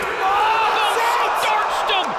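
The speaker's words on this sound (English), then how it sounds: "Listen to the crowd." An arena crowd roaring after a knockout at a Power Slap event: a dense, loud, continuous wall of cheering and shouting voices.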